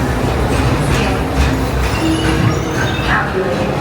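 Walt Disney World Railroad train ride at Magic Kingdom in Orlando, heard as a loud, continuous rumble of rolling wheels and carriage noise with faint clinks, close and steady throughout.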